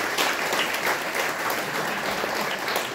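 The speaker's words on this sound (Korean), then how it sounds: "우리 박수로 환영해 주시기 바랍니다." Church congregation applauding to welcome a newly registered member during a Sunday service, a dense, steady burst of clapping from many hands that carries on for the whole span, with no talk over it.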